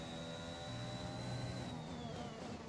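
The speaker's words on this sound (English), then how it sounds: "That turbo whine is just beautiful." A Honda turbo engine in the F1 2021 racing game gives a steady high-pitched whine over a dense, loud engine roar, sustained throughout at close range.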